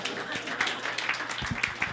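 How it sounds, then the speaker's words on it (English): Audience applause at a church service, a dense patter of many hands clapping steadily throughout at moderate volume, with some voices mixed in. "Round of applause."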